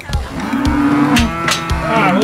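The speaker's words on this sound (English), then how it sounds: "Let's move some more cows in." Cattle mooing in a ranch pen holding small calves and big cows, with several loud, drawn-out moos overlapping close by and no talking.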